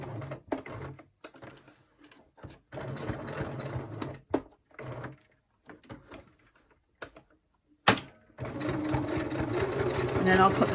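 A sewing machine stitches a handmade prayer journal in short bursts of rapid mechanical clatter separated by pauses, with a longer steady run near the end and a person talking quietly between stretches.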